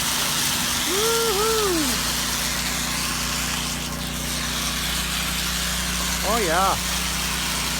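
A pressure washer engine rated at 8 gallons per minute roars steadily and loudly throughout while blasting out gutters, as a man whoops and cheers over the noise.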